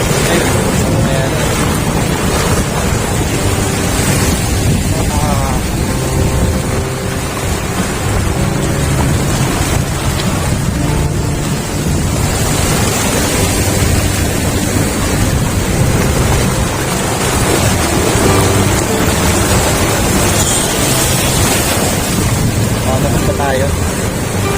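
Strong ocean waves crash at Patar Beach in Bolinao, a loud, continuous roar of surf with heavy wind buffeting the microphone and people talking intermittently over it.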